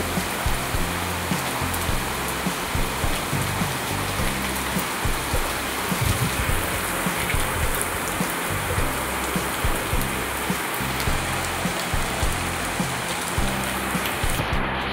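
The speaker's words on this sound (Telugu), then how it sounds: "చూసారండి వర్షం ఏ రేంజ్లో పడింది" Heavy rain pours down steadily during a Vinayaka Chavithi downpour, a dense, unbroken hiss of drops hitting surfaces with a low rushing undertone. It stays loud and constant throughout, with no voices.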